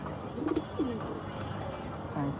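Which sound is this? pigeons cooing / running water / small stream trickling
pigeons cooing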